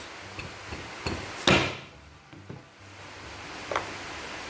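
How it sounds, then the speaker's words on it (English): A few solid, muffled blows of a dead blow hammer on a stuck part of an old Craftsman pressure washer, one much louder strike in the middle, with quieter knocks around it. "So with my good old dead blow hammer, see if I can jar them things loose."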